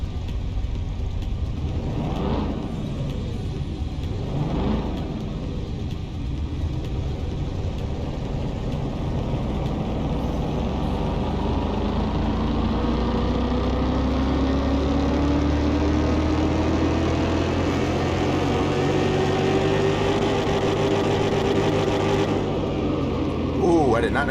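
A car engine on a dyno in Car Mechanic Simulator 2021, running a near-complete engine build with a performance fuel rail. A steady rumbling drone holds for a long stretch, then the revs climb in a rising whine before cutting off at the end.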